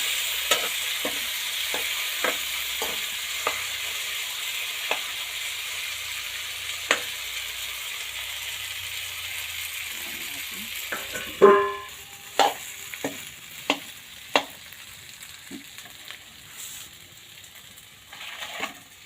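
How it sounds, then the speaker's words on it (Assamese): Boiled taro is stirred into a pan of sizzling tomatoes: a steady frying hiss fills the first part, then a sharp drop as the taro goes in, followed by repeated scraping, clacking spoon strokes over a quieter sizzle. "এতিয়া আকৌ এই কচুকেইটা সিজাই থোৱা কচুখিনি দি দিম। দি পেলাই অকণমান লৰাম।"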